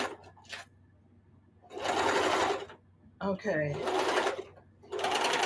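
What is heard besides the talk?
sewing machine stitching quilt scraps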